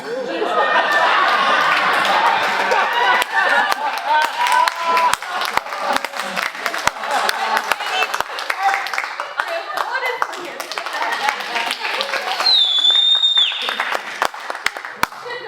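Audience clapping and applause at an improv comedy show, loud and sustained throughout, with crowd chatter and scattered laughter mixed in.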